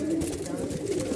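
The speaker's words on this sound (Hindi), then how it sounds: "मद्रासी चुटियल कबूतर है" A crested Madrasi pigeon coos in a low, rolling, unbroken murmur, close and moderately loud over a short stretch.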